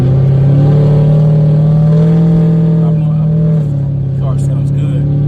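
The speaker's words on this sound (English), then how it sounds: "car sounds good." A built car's engine holds a steady, loud drone with a rising rev partway through, then settles slightly lower, running close and continuous with faint voices underneath.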